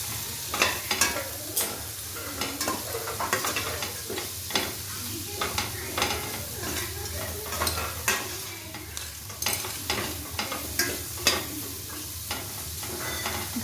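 Cauliflower, peas and beans sizzle in a hot pan with a little salt for mixed fried rice, as a steady fry broken by repeated sharp stirring scrapes close by, with no talking.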